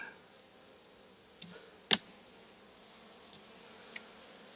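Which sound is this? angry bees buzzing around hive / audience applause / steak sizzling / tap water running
angry bees buzzing around hive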